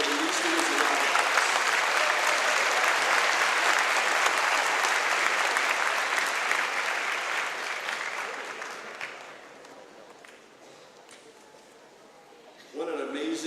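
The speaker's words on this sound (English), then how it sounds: "Please join me in giving these students a round of applause." School assembly crowd applauding students at an academic awards event, loud sustained clapping from many hands that gradually fades to a lull before a fresh burst near the end.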